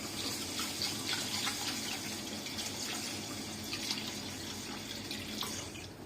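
Cloudy rice-rinsing water being poured away into a sink, a continuous running, splashing pour with scattered drips lasting several seconds.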